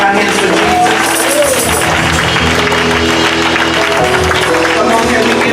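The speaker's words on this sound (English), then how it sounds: "can we clap our hands for Jesus?" Congregation in a church service clapping hands for Jesus, loud sustained clapping blended with music and crowd voices for the whole stretch.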